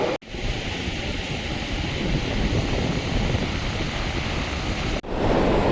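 Strong ocean waves surge at Nagoa Beach in Diu as a constant roaring wash mixed with wind buffeting the microphone, with two short dropouts and no voices.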